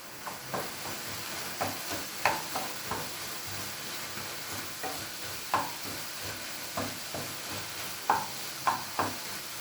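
A green chili is stir-fried in a pan for an ivy gourd (kovakka) dish, with steady, rhythmic scrapes and taps of a spoon over a low, continuous sizzle and no talking.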